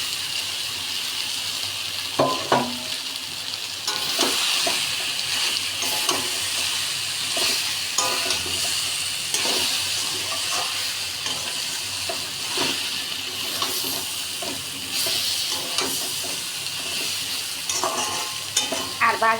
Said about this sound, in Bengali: এখন এর মধ্যে আমি ভেজে রাখা গাটি কচুগুলো দিয়ে দিচ্ছি